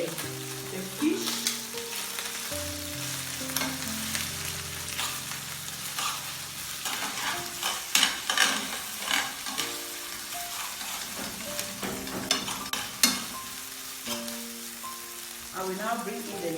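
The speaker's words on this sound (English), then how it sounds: "We now put in our onion. While we put in the fish." Onion and fish fry in oil for a Cameroonian fish roll, giving a steady close sizzle with crackles and a few scraping spikes, while a soft tonal background sound hums underneath and no one talks.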